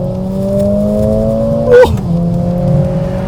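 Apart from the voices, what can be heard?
Mercedes-AMG A 45 S 4-cylinder engine accelerating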